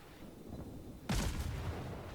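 After a near-silent stretch, a single sudden boom of naval gunfire erupts in the World of Warships video game, its rumble trailing off over the following second.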